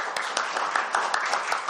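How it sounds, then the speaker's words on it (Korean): An audience at a panel discussion on an election white paper claps steadily to welcome the panel speakers, giving a continuous, fairly loud patter of many hands throughout. "박수로 환영하도록 하겠습니다."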